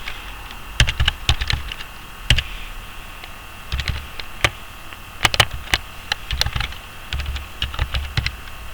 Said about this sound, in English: So you could just type in another email address here